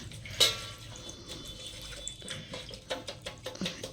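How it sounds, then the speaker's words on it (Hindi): Freshly cut tulsi roots being rinsed in water to wash off soil, with running, splashing and dripping water sounds close by, including a sharp splash near the start and intermittent trickles. "काट लिया, इसको धो लेते हैं।"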